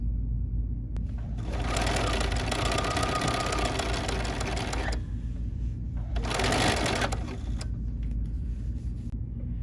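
A sewing machine stitches through a quilt in two long, steady motor-driven bursts, with a pause between them and a low hum running throughout.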